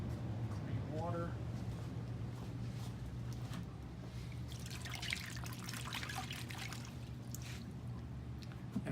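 Titanium pen being rinsed in clean water after anodizing: steady splashing and trickling with faint drips, close by, over a constant low hum from equipment, with no talk.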